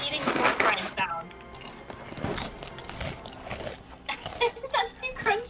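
A person's voice imitates the crunch of eating pork rinds, rapid crackly mouth noises in short bursts, with other voices and table clatter around it.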